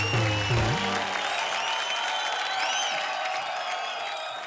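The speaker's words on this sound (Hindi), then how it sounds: "जोरदार तालियां इन दोनों के लिए।" A studio audience at a comedy show breaks into dense, energetic applause with some cheering, starting strong and tapering slightly over a few seconds; a brief voice is heard at the start.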